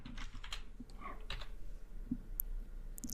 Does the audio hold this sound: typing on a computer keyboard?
yes